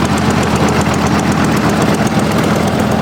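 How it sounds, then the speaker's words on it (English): An old Gibson tractor engine runs at an engine and tractor show, giving a loud, close, rapid and even popping exhaust beat that continues steadily without talk. "Old Gibson tractor."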